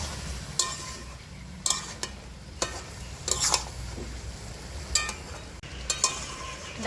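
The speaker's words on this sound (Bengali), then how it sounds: "সবজিটা একটু নাড়িয়ে দিই" Vegetables cooked with panch phoron are stirred in a frying pan: a soft continuous sizzle is broken by several sharp scraping and clinking strokes of a utensil at irregular intervals.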